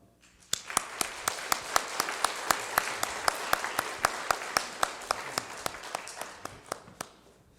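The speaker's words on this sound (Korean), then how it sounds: "두 분이 함께 인사하실 때 큰 박수 부탁드리겠습니다." A church congregation at a Sunday service applauds, with crisp, distinct claps standing out in a regular rhythm over softer background clapping, fairly close and continuing for several seconds.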